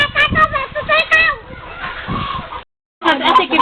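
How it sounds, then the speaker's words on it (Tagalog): Chickens cluck and squawk close by in a busy, irregular series of sharp calls, with a brief silent gap before the clucking resumes. "Yan yung mga manok."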